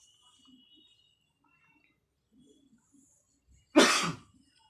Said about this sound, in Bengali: ঠান্ডা লেগে গেছে, একটু একটু হালকা হালকা কাশি হচ্ছে।